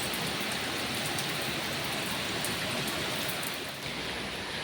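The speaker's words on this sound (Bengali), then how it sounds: "তো খুব জোর বৃষ্টিটা নামালো" Heavy rain pours down steadily, a dense, even hiss of drops that stays loud and unbroken from start to finish with no voices.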